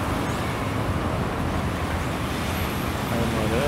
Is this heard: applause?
no